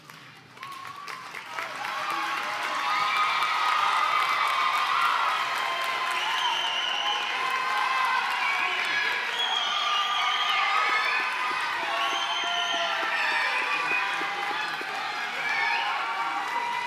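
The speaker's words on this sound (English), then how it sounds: "please give them a big thank you applause for what they did for you" An audience at a graduation ceremony claps and cheers steadily for over ten seconds, a dense wash of applause that swells and holds at a moderate distance.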